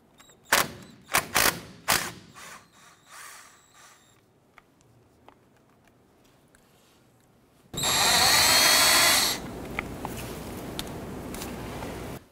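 A power tool on a 1993-1997 Ford Ranger removing the brake caliper bolt, several sharp bursts of clicking and rattling followed by a loud, sustained whirring run of about two seconds, close by with no voices.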